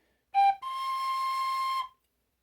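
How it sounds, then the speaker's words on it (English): A Bb tin whistle sounds two clear, pure notes close up, a brief short tone followed by a slightly higher sustained note held for over a second, then silence. "So I'm going to bring the head of the whistle out just a little bit, flatten that down."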